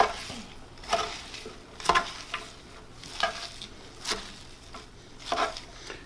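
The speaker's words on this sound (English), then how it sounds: "I'm just going to mix this with my tongs." Salad of spinach and kale being mixed with kitchen tongs, with several soft rustling, scraping pulses spaced about a second apart, close and fairly quiet.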